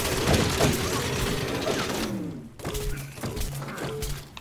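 Gunfire in Plants vs. Zombies: Garden Warfare 2 as shots fly at the player: bursts of sharp thuds and clattering impacts over a dense, busy game mix, loud early and then broken into scattered hits.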